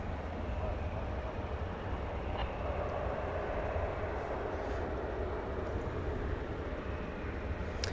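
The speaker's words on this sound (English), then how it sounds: "A319 departing." An Airbus A319 departs DFW airport, a steady broadband jet roar that holds for the full eight seconds at a moderate distance, with faint voices now and then.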